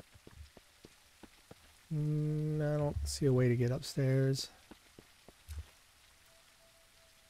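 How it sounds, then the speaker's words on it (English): Rain pattering in the survival game SurrounDead keeps up as a faint constant wash beneath someone speaking, with a few scattered low knocks before and after his words. "It has been raining a long time."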